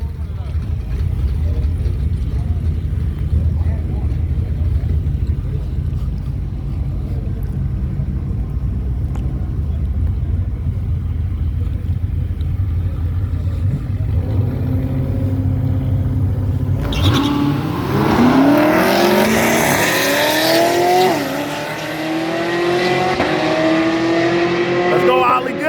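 A Camaro ZL1 and a Cadillac CTS-V in a drag race, a steady loud engine drone that turns into harsh rising revs and roaring acceleration partway through, close and continuous.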